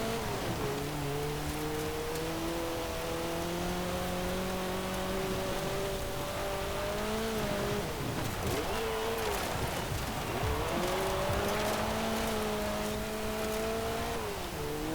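A car drifting through corners in the video game Forza Horizon 4, its engine note climbing and dipping as it slides, under a steady wash of rain-like tyre and road noise, no speech heard.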